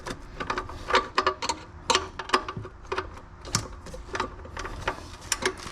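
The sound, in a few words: ratcheting wrench clicking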